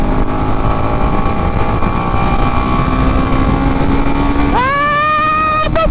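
A repaired TVS Apache RR310 motorcycle engine runs close by at a steady, loud idle with a constant droning hum, then revs up sharply near the end with a rising whine.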